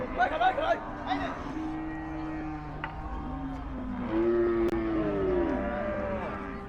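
Cattle leaving the Kalampur market give low, drawn-out moos, strongest toward the end, mixed with crowd noise and people talking nearby.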